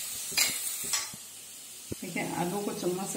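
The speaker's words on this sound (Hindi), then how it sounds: "आलू को चम्मच से अच्छी तरह तोड़कर मैश कर लीजिए और इसे हम प्याज के साथ भून लेंगे" A spoon mashing boiled potato in a pan where onions are frying, scraping strokes against the metal over a soft sizzle, with a person speaking partway through.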